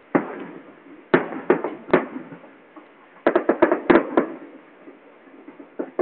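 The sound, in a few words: fireworks display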